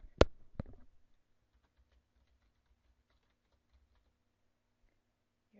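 A few quick keystrokes on a computer keyboard type a test name, two sharp close clicks at the start, then near silence.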